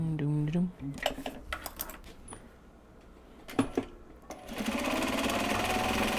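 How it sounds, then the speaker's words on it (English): A sewing machine stitches gyoza bags made from Japanese fabric. It makes short, rapid bursts of mechanical chatter close to the microphone, then runs into a longer steady whir at the end, with brief talk near the start. "At this point, since we're smushed down, let's just sew it."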